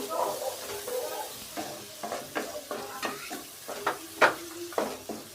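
Chopped tomatoes and fenugreek with potatoes roast in a pan over full heat, a close sizzle broken by repeated scraping stirs in an uneven rhythm. Some strokes land louder than others, and no one speaks.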